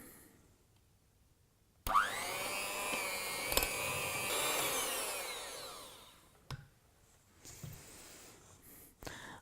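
An electric mixer creams butter and sugar for chocolate and cranberry cookie dough. The motor whirs up sharply in a short close burst, holds, then winds down, followed by a few clinks and knocks.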